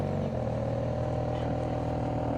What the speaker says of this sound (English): Let's take a listen to that Hurricane engine.